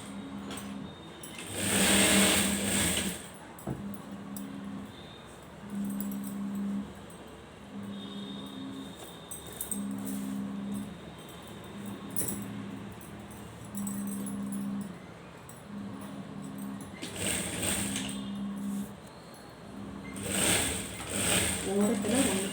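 A sewing machine stitching two layers of fabric together along the edge, its motor running in regular short bursts, with a few louder broadband bursts near the start and end.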